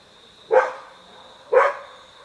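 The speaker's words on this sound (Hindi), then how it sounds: "साथ में कुत्ते भी बहुत ज़्यादा भौंक रहे हैं" Dogs barking near a forest at night, two loud single barks about a second apart against a steady insect hum.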